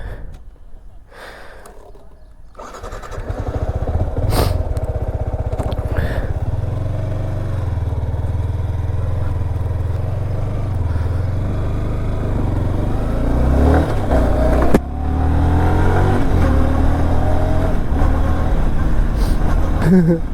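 A KTM Duke 390 motorcycle cranks and fires up, then settles into a loud, close idle with rising revs and a sharper burst of throttle near the end.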